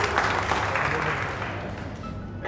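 Audience clapping steadily as a dense, continuous wash that lasts throughout and eases slightly toward the end, with a faint voice mixed in underneath.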